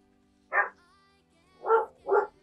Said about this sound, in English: the cute dog